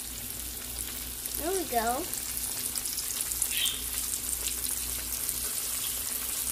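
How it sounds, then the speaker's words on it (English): Fish frying in oil in a pan, a steady soft sizzle throughout at low level, with a brief chirp-like squeak near the start. "we're gonna let it fry on 8 minutes to 10 minutes"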